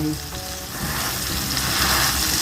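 Bananas sizzle and crackle steadily in butter in a pan over the lowest heat as a ladle presses them flat, a close, continuous frying hiss with no talk.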